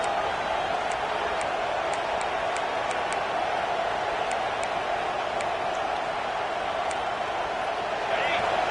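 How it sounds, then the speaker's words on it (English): College football stadium crowd at a Clemson versus Texas game roaring in a steady, dense, sustained swell over a commentator's voice, with sharp clacks from the stands punctuating the din. "Listen to this crowd just shaking the girders of this place"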